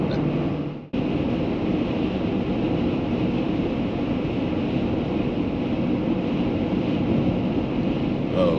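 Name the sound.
wind blowing while driving through the Continental Divide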